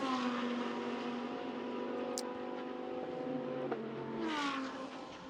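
GT race cars on the Macau street circuit pass by during free practice, a sustained high-revving engine drone with shifting pitch and one car rising and fading near the end, heard from trackside.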